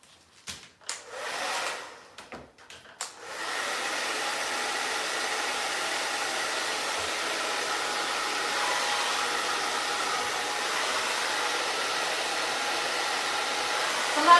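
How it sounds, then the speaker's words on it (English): A hair dryer fitted with a diffuser dries wavy hair, running as a steady, moderately loud whooshing drone for most of the clip after a few sharp handling knocks and bumps at the start. "I'm gonna try diffusing it a little bit more because it does feel a little damp still."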